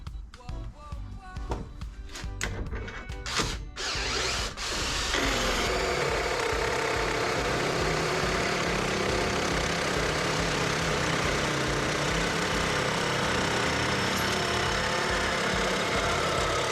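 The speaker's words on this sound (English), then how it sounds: "So we've got the right size hole saw on it." A hole saw cuts a notch into metal tube for a rear crash bar on a 1991 Mazda MX5: a few seconds of rattling, knocking setup and starts, then a loud, sustained grinding drill cut that runs on evenly.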